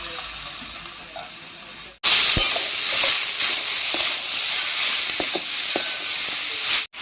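Minced chicken cooking with fried spices for a samosa filling, a loud, close, continuous sizzle that bursts in abruptly after a quieter stretch, with scattered clinks and stirring scrapes, then cuts off near the end.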